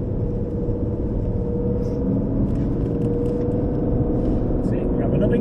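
An Aston Martin Vantage races around the Silverstone circuit, heard from inside the car as a steady, loud engine rumble and road roar that holds without a break.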